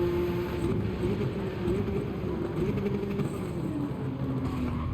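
Porsche 962C race car from 1988 in a racing video game, its engine holding a steady droning tone with slight pitch shifts, joined by other cars close around it in a crowded opening corner, continuous and moderately loud.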